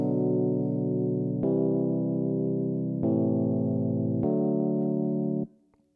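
Four sustained, buzzy synth-like chords from a song ring out one after another with clean changes, then cut off abruptly into near silence.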